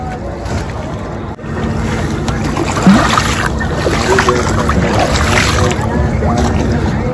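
A boat ride on the river at the Kumbh Mela brings a steady engine drone mixed with water rush and wind buffeting the microphone, continuous and close, with people talking over it.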